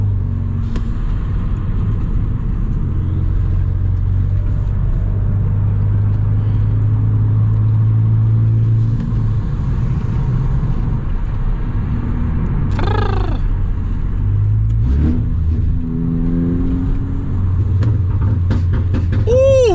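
Volkswagen Scirocco engine droning steadily, then revving with rising sweeps, a blow-off valve whoosh and sharp exhaust pops and bangs, loud and close from inside the car.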